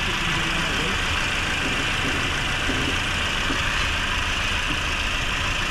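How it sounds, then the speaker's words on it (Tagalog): A Toyota Vios Dual VVT-i engine idles quietly with a steady, even hum that runs continuously throughout, with no revving or talking. "Tahimik na yung kanyang makina."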